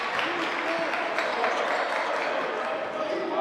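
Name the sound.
basketball game crowd noise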